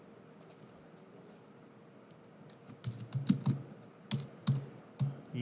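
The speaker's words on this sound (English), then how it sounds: "So let me type here email" Fingers type on a computer keyboard at close range, starting with a few soft clicks and then building into quick irregular bursts of keystrokes with no talk.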